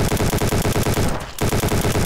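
AK rifle in Ancient Warfare 3 firing fully automatic, with loud steady bursts of evenly spaced shots and one brief gap before the firing resumes.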